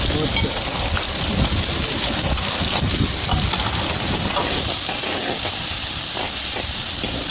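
Chopped large onions hit hot oil in a home kitchen pan while a bottle gourd curry is being made, giving a loud, steady sizzle that continues unbroken throughout.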